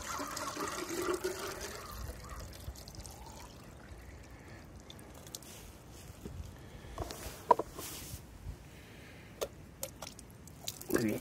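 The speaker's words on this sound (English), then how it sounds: "We're going to fill it up with water." Water pours and splashes into a container holding a Hayward AquaRite pool salt cell for cleaning, then trickles more quietly, with a few sharp clinks and knocks near the end.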